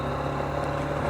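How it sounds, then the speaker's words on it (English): Steady wind roaring past a rider on a Honda CB125F motorcycle on a gusty dirt road, a continuous broadband rush with a low engine hum underneath, loud and unbroken. "most of what you're hearing is literally the wind that's blowing."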